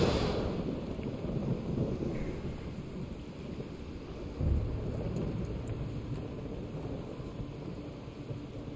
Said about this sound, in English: I don't think that's a regular storm.